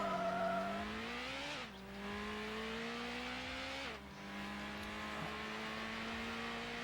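A car engine in the Need For Speed game revs up in long rising whines, with two quick drops as gears shift and a faint tire hiss underneath, the drone carrying on evenly without speech.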